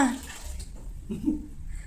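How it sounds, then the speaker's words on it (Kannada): Water runs and splashes during aquarium cleaning, a short, moderately loud burst with a faint voice briefly in the background. "ನೀರು ಸೌಂಡ್ ಕೇಳಿಸುತ್ತೆ ನೋಡಿದ"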